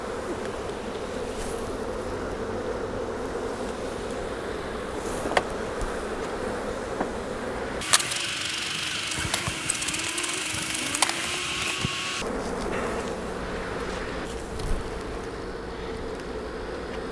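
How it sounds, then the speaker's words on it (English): Dense, steady hum of honeybees in a crowded hive, loud and close throughout, with a busier, brighter stretch midway and a few sharp knocks from handling the frames. "That is one crowded hive."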